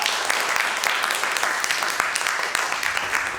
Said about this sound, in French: Un tonnerre d'applaudissements pour Salomon